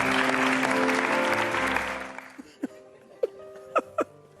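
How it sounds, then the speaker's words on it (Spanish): Audience applause for Pablo Pineda, a dense burst of clapping with some laughter that dies away after about two seconds, followed by a few scattered isolated claps and sounds in a quiet room. "vamos a darle un fuertísimo aplauso a nuestro amigo Pablo Pineda"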